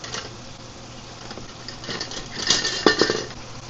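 Rubber-coated metal tongs move shrimp around in a hot pan of melted butter, giving soft clinks and scrapes over a steady sizzle, with a denser cluster of taps near the end.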